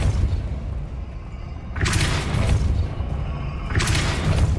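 Bombarda explosion spell in the Hogwarts Legacy video game, heard as two loud, sharp blasts a couple of seconds apart over a low rumbling background.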